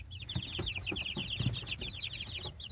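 Chickens clucking in a coop with wood shavings and roosters among the flock, a steady run of close, rapid high clucks and chatter with soft rustling below, no talk.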